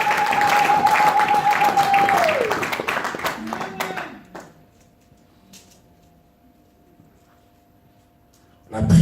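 A church congregation claps and cheers loudly during a French-language sermon by Pastor Léopold Mbadu, with a sustained keyboard tone underneath. The applause dies away after about four seconds into near quiet, and a brief loud burst returns at the very end.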